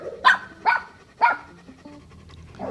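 A dog barks three times in quick succession, sharp and fairly close, followed by quieter background noise.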